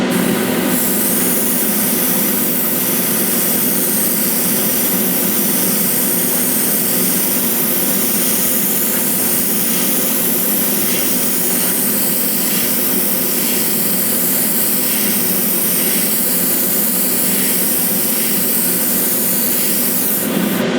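A continuous airbrush spraying gloss clear coat on a scale model hisses loudly and evenly for the whole stretch, a close, steady jet of air and paint without pauses.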